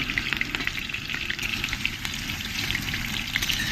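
Potatoes fry in oil in a village kitchen for chicken curry, a dense, continuous close sizzle with spoon stirring clatter running throughout, no talking.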